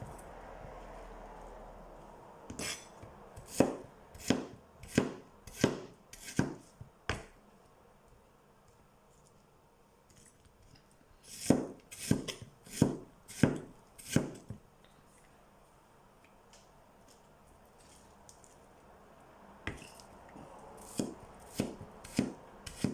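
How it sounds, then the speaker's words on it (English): Knife roughly chopping food on a cutting board while making a Myanmar curry, sharp close knocks in quick bursts of about five to eight strokes, separated by pauses of near silence. "So you can see I'm just roughly chopping."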